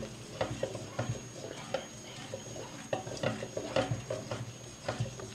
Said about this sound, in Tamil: காஸ்டிக் லையை மிக்ஸ் பண்ண உடனே ஒரு 5 நிமிஷம் விடாமல் நல்லா கிளறிக்கிட்டே இருக்கணும்.